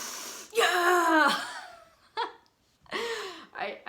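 A man imitates exaggerated deep breathing, with a long loud strained inhale followed by short gasping huffs, close up and alone.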